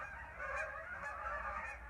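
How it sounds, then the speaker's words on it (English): Faint honking of geese passing overhead, several calls blending over a low outdoor hum, distant and quiet. "Now we got geese flying by."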